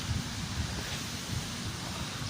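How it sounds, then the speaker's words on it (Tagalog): Wind rushes steadily past the microphone, a low blustery rumble with soft gusty pulses and a hissy wash above it. "Ayan, mahangin."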